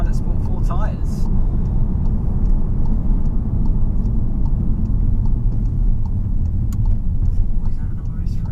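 VW Golf R on Michelin Pilot Sport 4 tyres driving twisty roads, heard from inside as a steady loud low road and engine rumble with tyre roar throughout, and a brief voice early on.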